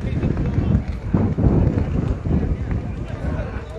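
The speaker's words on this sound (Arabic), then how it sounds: "هناك رياح قوية بهذه المنطقة اللي كنتواجدوا فيها حاليا" Strong wind buffets the microphone outdoors in Tetouan where football supporters gather, a continuous low roaring rumble that surges and dips throughout, with voices faintly present beneath it.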